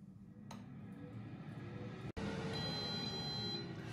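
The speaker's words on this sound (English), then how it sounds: "And the air fryer is beeped." An air fryer beeps once it finishes cooking tomatoes, a faint, thin electronic tone lasting about a second over low background hum in a quiet kitchen.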